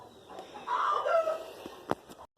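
Chickens clucking on a farm, with a turkey and dogs also about, a burst of close fowl calls rising in the middle and one sharp squawk near the end before it cuts off.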